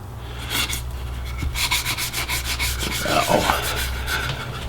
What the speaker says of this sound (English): I sanded through all the grits. I'm finishing up with 600 here.